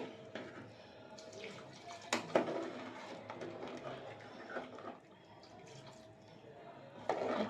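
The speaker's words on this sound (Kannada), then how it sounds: "ಅದಕ್ಕೆ ಸ್ವಲ್ಪ ನೀರು ಹಾಕೊತೀನಿ" Water poured into a pot of chicken curry on the boil, a light splashing and trickling with small drips and clatter, fairly close, with faint room noise.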